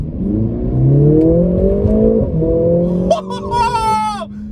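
A Mercedes-AMG A45 S hatchback accelerates hard from close by, its engine note climbing steadily and loudly, then a quick gear change and a sharp rising rev near the end.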